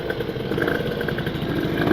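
An old motorcycle rides ahead in busy traffic, its engine a steady low putter heard from behind alongside the rider's own bike, continuous and moderately loud for two seconds.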